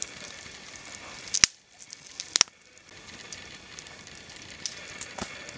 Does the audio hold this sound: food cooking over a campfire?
yes